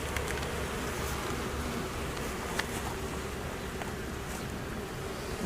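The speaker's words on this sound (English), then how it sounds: "Daddy, here's a baby bee." Honey bees buzzing around an opened backyard hive during an inspection, a steady dense drone holding evenly throughout at close range with no voices over it.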